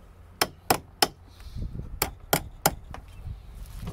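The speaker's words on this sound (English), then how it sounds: "Might give it a little tap with a hammer if I've got one." A big ratchet tapped against metal, giving two sets of three sharp clanks in a quick rhythm with a short shuffling pause between them, close and clear.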